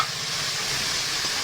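Grated tomato with red chilli, cumin and coriander paste frying in a pan, a steady hissing sizzle close by, even and uninterrupted for a brief moment with no talk.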